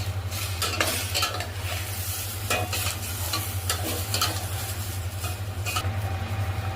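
Garlic paste and salt being stirred into a chicken soup mixture in a pan, with steady scraping and a continuous sizzle over a low constant hum, broken by repeated sharp clinks of the utensil against the pan.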